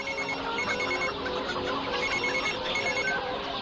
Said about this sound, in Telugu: ముందు మీ నాన్నగారికి ఫోన్ చేయి.